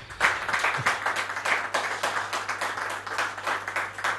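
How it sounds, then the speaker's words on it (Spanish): A small audience claps in a TV studio, with a loose, uneven rhythm of distinct hand claps that stays fairly close and steady without cheering. "merece un aplauso"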